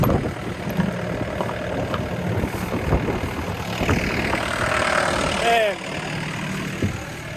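A heavy excavator diesel engine idles steadily at moderate distance, a constant low rumble with a brief whine near the end before the level drops slightly.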